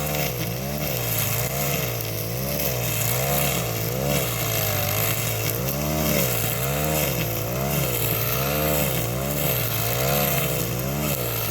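Two string trimmers race along a fence line, their small two-stroke engines giving a loud, continuous high-pitched whine whose pitch wavers up and down steadily throughout, with no voices over it.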